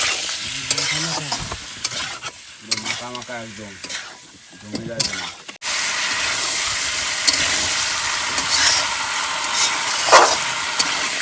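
Fish frying in a pan with a spiced masala, a loud steady sizzle that bursts up when the fish goes in, preceded by scraping and stirring sounds with brief clatter.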